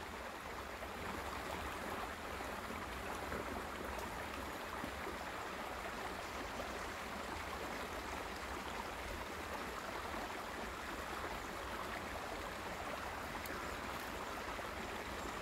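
A river in winter flows steadily, a constant broadband rush of running water, even and unbroken throughout with no voices.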